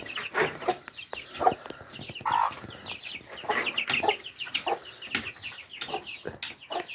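Several chickens cluck and cackle close by in a busy, irregular chorus of short calls.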